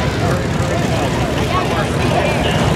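A MiG-15 jet aircraft flying at an airshow, heard as a loud, steady, broadband roar that fills the whole stretch with no break.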